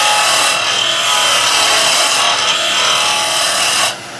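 A wood lathe roughs a blank for small Christmas tree decoration houses down to a cylinder, giving a loud, continuous, close cutting hiss and rasp that stops abruptly at the end.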